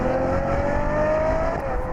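A Ferrari FF engine, which revs to 8,000 rpm, pulls hard under acceleration, its tone climbing steadily over a rumbling road roar, loud and close with no talking.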